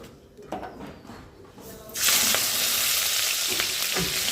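A few soft clatters give way to a loud, continuous sizzle of hot oil in a wok-style pan, close and steady to the end.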